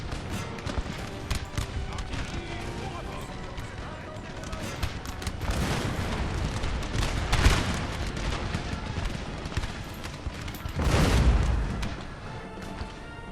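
Batteries of 6-pounder and 8-pounder cannons fire canister shot in Napoleon: Total War, a long rolling fusillade of overlapping booms and crackles that swells into two heavier bursts, with a voice talking throughout.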